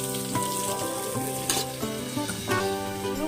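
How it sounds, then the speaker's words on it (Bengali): Pumpkin pieces fry without salt in a wok, giving a loud, steady sizzle with faint stirring clinks and no talking. "দিয়ে এবার কুমড়োগুলো ভেজে নেব"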